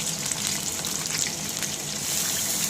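Onions sizzle and fry in a wok alongside potatoes being cooked for a mutton curry meal, a steady, close hiss with faint stirring, no voices present.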